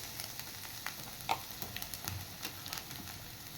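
Green chilies, curry leaves and ginger garlic paste frying in hot oil in a pan, a soft continuous sizzle with occasional small pops and stirring scrapes, close and fairly quiet, no voices.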